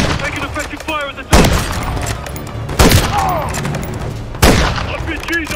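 Heavy gunfire in the video game Call of Duty Modern Warfare III, set in a snowy frozen tundra: three loud, booming bursts of shots at roughly even intervals, with speech and combat noise continuing underneath between them.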